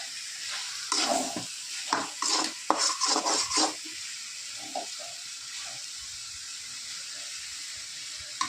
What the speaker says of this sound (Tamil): நல்லா இதை வதக்கி விடணும்.